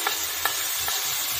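Besan masala frying in a pan with turmeric, tomato paste and spices, a steady close sizzle with a few soft scraping strokes of a spoon stirring the mixture.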